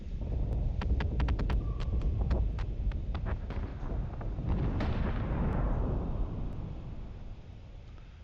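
Spaceship guns in a Cylon space-battle game let off a quick rattling burst of sharp shots over a dense roaring rumble, which swells and then slowly fades.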